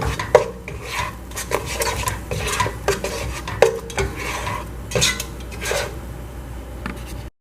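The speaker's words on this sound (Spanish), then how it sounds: "y un poquito de sal. Me voy a batir muy bien." Eggs with a pinch of salt beaten briskly in a bowl for Chinese-style fried rice, a steady close scraping and clinking of utensil against dish with a few sharper knocks, with no talking.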